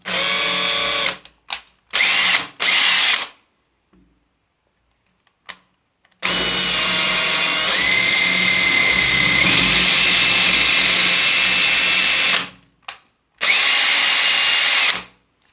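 A loud hammer drill in hammer mode whines while drilling into ceramic tile in several bursts, a short run then a long sustained grind, with brief pauses of silence between.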